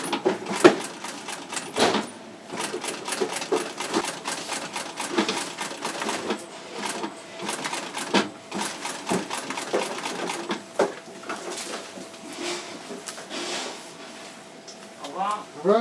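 A sewing machine stitches a boot lining while narrowing boots that are too wide at the calf, producing a steady, rapid mechanical chatter with brief pauses and restarts close to the listener.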